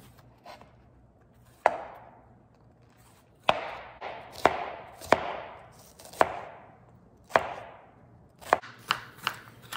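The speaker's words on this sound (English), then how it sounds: "now I'm taking all the sides and I'm cutting them in strips" A knife slices bell pepper sides into strips on a cutting board, a dozen or so crisp, close chops coming in uneven bursts, alone without talk.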